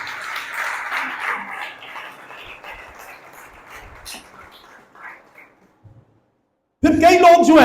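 Applause from a church congregation, a fairly loud spread of clapping that gradually thins out and fades over several seconds, then a pause before a voice speaks loudly.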